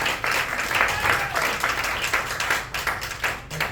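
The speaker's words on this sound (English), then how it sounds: "How about a big round of applause for" Audience applause at a magic show in Memphis, a sustained wash of many hands clapping fairly close and steady, with some voices mixed in.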